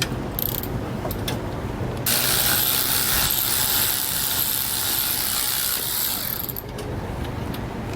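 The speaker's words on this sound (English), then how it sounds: "go ahead and remove these two fasteners here. You're going to use a 3/8 socket to do so." Ratchet wrench with a 3/8 socket backing out carriage bolts on a trailer frame, a rapid clicking pawl ratcheting in close bursts with brief pauses between strokes.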